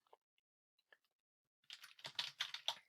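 Keys on a computer keyboard are typed in a quick, close burst of clicks after a few isolated faint taps in near silence.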